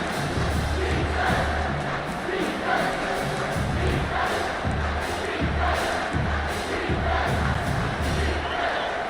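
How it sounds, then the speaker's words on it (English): Home crowd in College Football 25 roaring as the defense faces third down, LSU at South Carolina; a dense, loud stadium din with rhythmic surges and low pulsing chants throughout. "Here comes this home crowd as the defense tries to get off the field on 3rd down."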